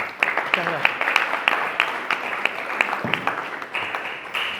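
Crowd applause with many hands clapping in a dense, steady patter, fairly close, with a few sharper individual claps standing out.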